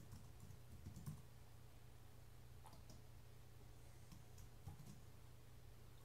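Fast, uneven keystrokes tapped on a computer keyboard at close range, light clicks in short bursts over a quiet low hum with no talking.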